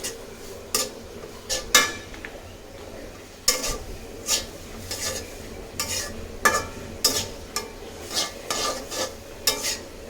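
Egg being stirred with spices in a pan, a spoon clinking and scraping against the metal in a run of sharp, irregular strikes over a faint sizzle, close by and with no voices.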